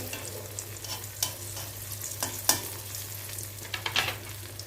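Veg lollipops fry in a moderate amount of oil, sizzling steadily with soft crackles and several sharper clicks and taps as they are turned over in the pan.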